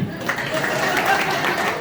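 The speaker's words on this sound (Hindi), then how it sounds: "एक बार जोरदार ताली" An audience at a commemorative gathering claps together, a steady, moderately loud patter of hands lasting under two seconds.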